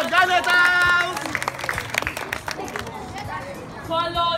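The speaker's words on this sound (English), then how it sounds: "Clap for them." A crowd applauds a house team at a school sports day, with lively clapping and chatter from many people and bursts of cheering and shouting voices over the top.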